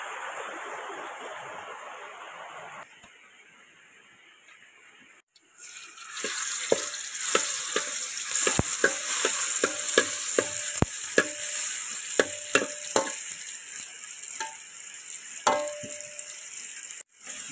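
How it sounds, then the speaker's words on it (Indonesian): Mushrooms are sautéed in a pan outdoors beside a rainforest river in the rain, with a faint patter giving way to loud, continuous sizzling and repeated sharp scrapes and clacks of stirring. "Tumis jamur"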